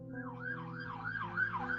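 A police car siren wails in a steady rising-and-falling cycle, loud and close, during a Warhammer 40k Rogue Trader tabletop role-playing session.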